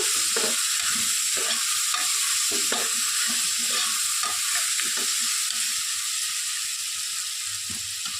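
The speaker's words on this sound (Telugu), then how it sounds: "పప్పును ఒక 2 మినిట్స్ బాగా వేపుకోవాలండి" Washed toor dal roasts in a pan with a steady sizzle, overlaid by a brisk rhythm of repeated spatula scrapes and taps, close and without speech.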